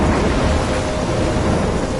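Stormy weather from the video game Life is Strange: a steady, dense wash of rain and low rumbling thunder, loud and continuous with no break across the two seconds.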